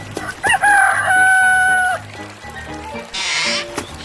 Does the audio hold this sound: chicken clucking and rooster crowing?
yes